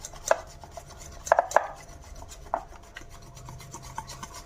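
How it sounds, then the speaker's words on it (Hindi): Butter cookie dough is mixed with a pinch of salt, a few sharp scraping and rubbing strokes against a bowl, close and irregular with quiet gaps between. "चलिए इसको भी डाल के अच्छे से हम मिक्स कर लेंगे।"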